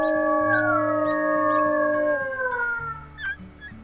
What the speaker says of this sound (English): Let's do a little howl. A morning howl.